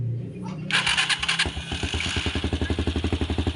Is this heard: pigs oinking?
no